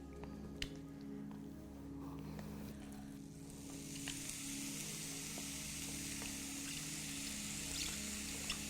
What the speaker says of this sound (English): we don't want the butter to burn, we want it to sizzle nicely. And straight into that, we're going to put our carrots.